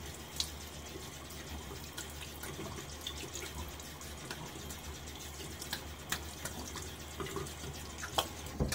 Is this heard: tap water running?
yes